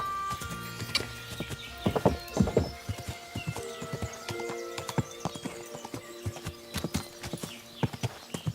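Horse hooves in the video game Kingdom Come: Deliverance II clip-clop in a steady walking rhythm close by, with a horse neighing and snorting early on.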